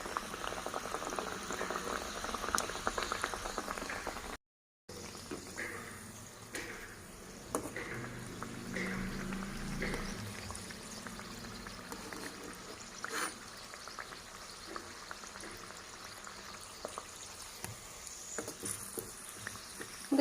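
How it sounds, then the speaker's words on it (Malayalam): Aloo kachori frying in hot oil, a steady low bubbling and crackling sizzle with occasional small pops, fairly faint and continuous with no talking. "എണ്ണ നല്ല ചൂടായി വന്നിട്ടുണ്ട്. നമുക്കിത് എണ്ണയ്ക്കകത്തോട്ടിട്ട് പൊരിച്ചെടുക്കാം."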